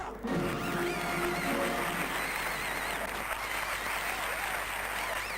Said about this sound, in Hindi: आपकी तालियों में हमारे सामने आ रहे हैं सलीम जमेला।